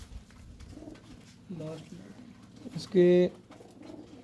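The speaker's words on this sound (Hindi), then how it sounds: "बहुत अच्छा कबूतर, ओवरऑल कबूतर बहुत अच्छा।" Pigeons in a loft give a few soft coos, then one louder, clear coo near the end, with someone speaking briefly alongside.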